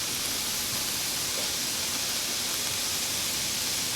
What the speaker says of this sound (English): We're going to let them saute for about a minute.